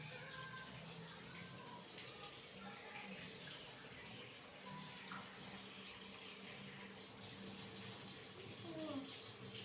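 Water runs steadily from a tap into a basin while hands are washed, a continuous close hiss and splash throughout with faint voices in the background.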